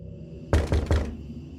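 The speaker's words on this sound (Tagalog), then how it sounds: "may narinig na kaming malakas na katok sa pintuan." Three loud, heavy knocks strike a wooden door in an even, fairly quick sequence, close and booming, with quiet before and after.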